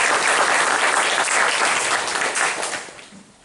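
A church congregation at a military worship service bursts into loud, dense applause that holds steady, then thins and fades out over a few seconds.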